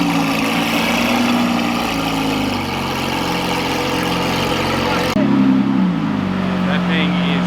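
A Lamborghini Aventador Super Veloce supercar idles with a loud, steady, deep engine drone, its tone dipping slightly partway through, with no voices over it.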